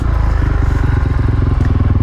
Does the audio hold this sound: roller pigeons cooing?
no